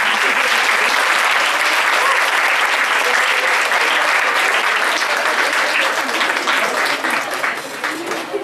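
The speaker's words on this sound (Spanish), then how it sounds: "voy a pedir un aplauso enorme para todos ellos" Loud, dense audience applause for workshop leaders at a regional adult-education meeting, steady broadband clapping that holds for several seconds before easing slightly at the end.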